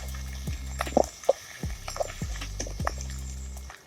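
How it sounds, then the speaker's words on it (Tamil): Water poured into a pot of clams cooking over a primitive outdoor fire, short splashy trickles and drips over a pulsing low hum, close and fairly quiet. "இல்லை தண்ணி இது ஊற்றணும்"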